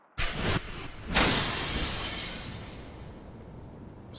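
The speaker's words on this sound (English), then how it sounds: "Smashed through the window and off into the night." A glass window smashes in the video game Spirit Hunter: Death Mark: a sharp loud crash followed by a second burst of shattering and a long trailing scatter of falling shards that fades out.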